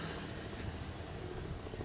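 Helicopter overhead during a police standoff in Elyria, a continuous low rotor drone that stays steady and moderately loud with no voices.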